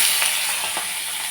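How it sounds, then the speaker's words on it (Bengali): Dry red chillies temper in hot oil in a wok, a loud, close, continuous sizzle with faint crackles and pops rising from the hiss. "কড়াইতে শুকনো লঙ্কা তেল ফোড়নও দিয়ে দিয়েছি।"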